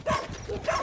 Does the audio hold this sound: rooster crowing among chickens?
no